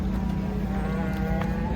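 A white cow moos in a long, low, steady call lasting the whole moment, fairly close, with faint background noise.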